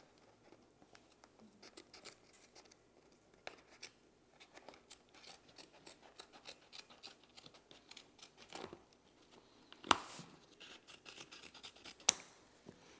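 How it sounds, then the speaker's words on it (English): Scissors snip through canvas on a print being stretched, with irregular clusters of crisp cuts and faint rustling, quiet and close, ending in a couple of sharper snaps. "So I will take the scissors over here."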